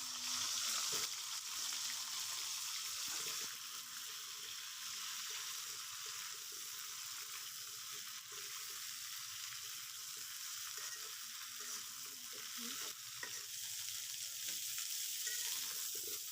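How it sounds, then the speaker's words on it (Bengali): Cauliflower frying lightly in a pan of oil, a dense, even hiss of sizzling that carries on steadily throughout with a few faint knocks, no speech. "একই তেলের মধ্যে ফুলকপি ভেজে নেব হালকা করে।"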